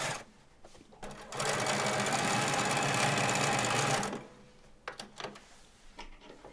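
A sewing machine neatening the edges of jeans fabric runs in one steady, close, loud burst of about three seconds, with quieter handling clicks before and after.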